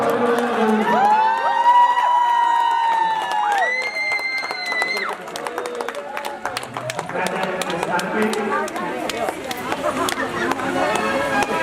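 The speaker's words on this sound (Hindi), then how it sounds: "ताली तो बजा लो, सभी ताली बजाओ।" Wedding audience at a religious ceremony breaking into clapping and cheering, a dense crowd of applause with shouts that swells after sustained sung voices at the start.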